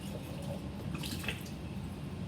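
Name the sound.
rinsing lab glassware with water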